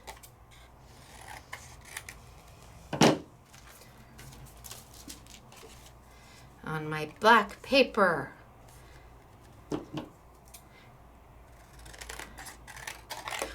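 Scissors snip through paper being trimmed for a handmade card, a few short crisp cuts in bursts, with a person talking quietly through parts of it.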